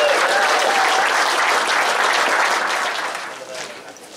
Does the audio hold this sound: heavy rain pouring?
no